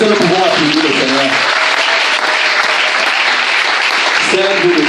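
Loud, dense applause from a church congregation fills the whole stretch, with a voice briefly heard at the start and again near the end.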